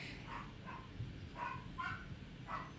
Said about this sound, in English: You might hear my dog go bananas